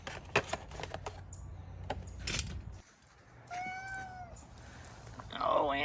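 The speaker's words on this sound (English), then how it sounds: "This is the neighbor's cat, Annabelle." The neighbor's cat meows outdoors near a parked car, a couple of drawn-out, rising meows at moderate distance amid light clatter and background noise.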